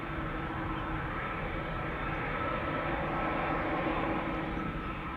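Delta jet airliners departing Amsterdam Schiphol, a steady, broad engine roar held at an even level throughout, fairly distant with no voices over it.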